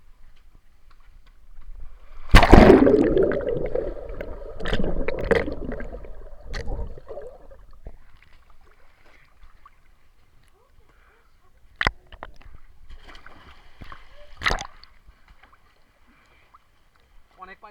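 A person plunges into water with a heavy splash, followed by sloshing and churning water, then two sharp later splashes; voices talk around the water sounds.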